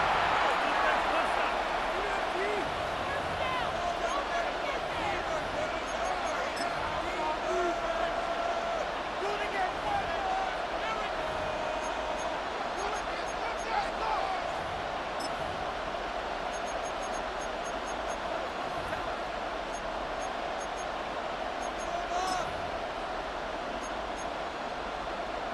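Stadium crowd noise in the American football video game Madden NFL 26 fills the whole stretch, a steady dense roar with no clear breaks and no plainly separate voices.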